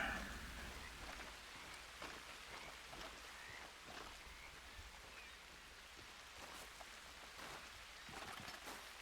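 Steady rainfall in the Red Dead Redemption 2 game world, a faint continuous patter of drops on surfaces with scattered louder splashes, heard alone without talk.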